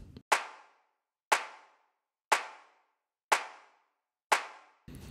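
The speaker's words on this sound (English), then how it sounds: "I have dragged a MPC clap sample into the quick sampler" An MPC clap sample is triggered five times in a software quick sampler. Each sharp, dry clap sits about a second apart and decays quickly into silence. Fairly quiet and close, with no voices.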